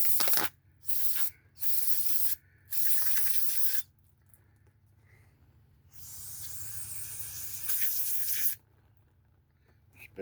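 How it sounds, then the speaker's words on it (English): Carburetor cleaner hisses from an aerosol can onto a strimmer carburetor in a series of short bursts, then a longer steady spray, with quiet gaps between. "Just a bit of carb cleaner."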